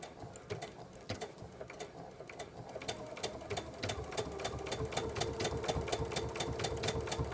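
A sewing machine stitches invisible applique with Mettler Transfil thread, following the edge all the way around the applique to secure it, giving a steady, moderately loud mechanical whir that picks up slightly in pace and continues throughout.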